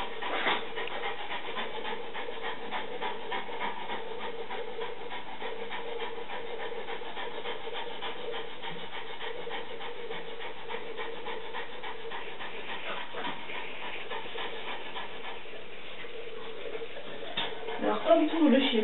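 A molosser-type dog pants in a continuous quick rhythm, close by, while a person speaks over it throughout; a faint rubbing sound rises near the end.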